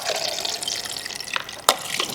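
Cold water runs steadily from a tap into a film development tank for the wash, a continuous bright hiss with a sharp splash or clunk near the end.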